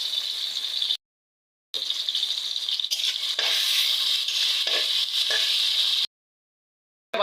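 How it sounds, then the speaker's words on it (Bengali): Onions frying in hot oil in a wok give a steady, bright sizzle with occasional stirring scrapes, cut by two short silent gaps; no voices. "এখন পেঁয়াজটা ভেজে নিব"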